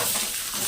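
Vegetables tossed into hot oil for chow Manchurian give a short, loud, steady sizzle with a stirring scrape, heard alone with no voices.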